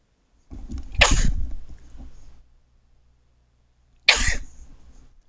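Two separate sneezes, each a sharp, loud, muffled burst, occur a few seconds apart and are followed by short fading rustles and quiet gaps between them.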